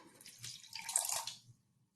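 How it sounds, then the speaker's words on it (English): Water pours briefly into a cup, a soft splashing trickle for about a second that fades out, with no voices. "I'm going to pour the water in the cup."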